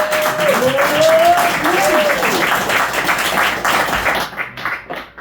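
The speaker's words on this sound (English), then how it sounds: "We got a Berlin applause there." A Berlin comedy audience applauds with dense, steady clapping and some whoops, a voice calling out near the start before the applause thins and fades toward the end.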